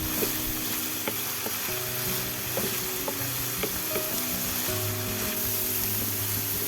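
Vegetables sizzle steadily in a hot pan for chicken fried rice, with occasional clicks and scrapes of a utensil stirring, close by and moderately quiet.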